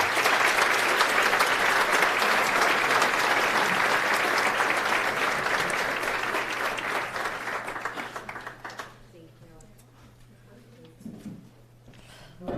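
A large audience at a business awards ceremony applauds steadily for several seconds, then the clapping fades out, leaving a quiet room with a low hum and a few scattered sounds.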